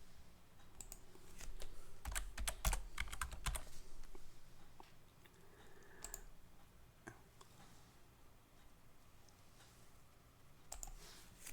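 Keys clatter on a computer keyboard as a password is entered, with fast bursts of close clicks in the first few seconds, a quieter stretch of scattered taps, and another short run of keystrokes at the end.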